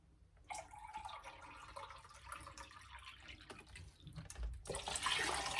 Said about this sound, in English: we're going to incorporate the other 8 cups of cold water